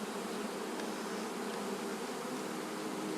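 A swarm of honey bees, some 25,000 strong, being captured, fills the air with a dense, loud, continuous buzz that holds steady throughout.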